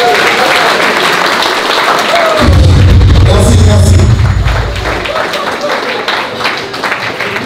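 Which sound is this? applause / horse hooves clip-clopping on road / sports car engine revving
applause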